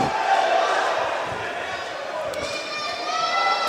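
A crowd roars and cheers at a Wu Lin Feng kickboxing event at the PanAm Centre in Canada, a dense, sustained wash of noise with a commentator talking over it.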